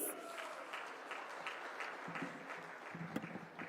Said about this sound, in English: Let's hear it for a huge round of applause,